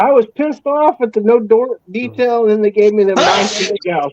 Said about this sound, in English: I've always sneezed real loud